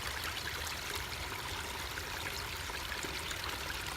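Water spilling steadily out of a squeeze bag like a small fountain outdoors, a soft continuous trickling and gurgling stream, close and fairly quiet, with no voices.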